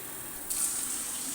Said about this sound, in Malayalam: ഈ 2 ഗ്ലാസ്സിനകത്തും ഒരു വെള്ളം നിറയ്ക്കുക.